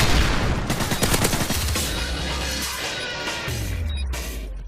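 MP7 submachine gun fire in Call of Duty, a loud, rapid stream of shots in quick bursts over nearly five seconds, with booming low impacts and a rumbling tail near the end.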